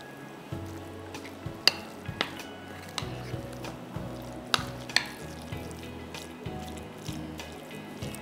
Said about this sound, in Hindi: अच्छी तरह से आप इसको मिक्स कर लीजिए।